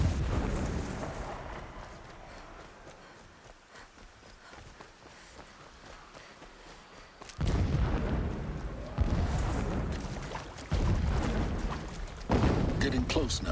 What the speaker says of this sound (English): explosions in the distance. Pay that no mind.